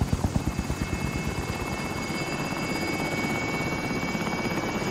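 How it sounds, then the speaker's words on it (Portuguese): A helicopter in the video game Call of Duty Warzone thumps loudly and steadily, its rotor chop rapid and constant with no voices over it. "Helicóptero em posição"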